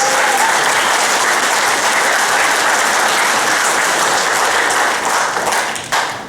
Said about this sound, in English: Round of applause for the audience.